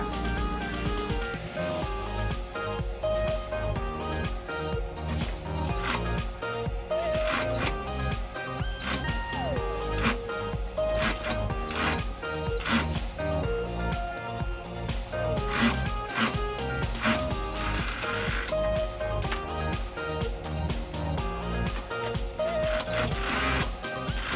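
A sewing machine runs steadily for the whole stretch, stitching a shirt seam a second time while a large shirt is taken in to a smaller size, a busy, close mechanical chatter with no talking.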